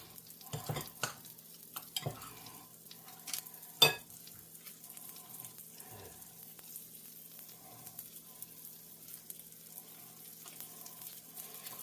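Rice balls (onigiri) frying in a pan, a soft steady sizzle with a few clinks and scrapes of a utensil early on, quiet and close, no speech.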